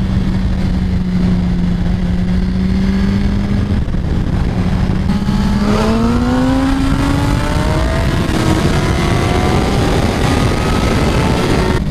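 A 2017 Suzuki GSX-R1000 sportbike screams loudly and continuously as it accelerates and pulls wheelies, its engine pitch climbing through the gears with a shift dip midway, heard close and with no talk.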